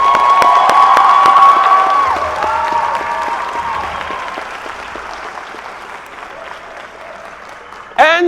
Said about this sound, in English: I need you to give yourselves a round of applause